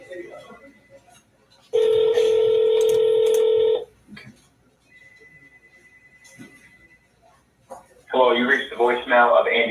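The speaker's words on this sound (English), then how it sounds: "Well, that's dialing." A telephone dials out with a loud, steady tone lasting about two seconds, followed by a quieter ringing tone and then a recorded voice answering over the line.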